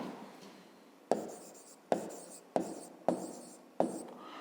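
A pen writes an answer on paper in five quick separate scratchy strokes, close and clear, each starting with a sharp tap and fading, with no talking.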